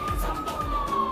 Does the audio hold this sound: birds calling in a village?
no